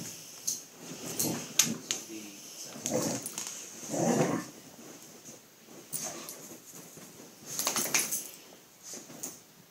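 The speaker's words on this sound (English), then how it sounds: "older Whippet mix helping introduce a new Whippet to the house" Older Whippet mix dog playing with a new Whippet puppy indoors, with scattered soft whines, snuffles and brief yips coming in short bursts against a quiet room.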